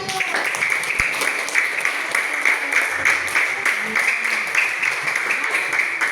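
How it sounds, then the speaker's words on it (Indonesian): A classroom applauds group 1 after their presentation, a sustained patter of many hands clapping throughout, with a faint voice mixed in underneath. "Tepuk tangan dulu untuk kelompok 1."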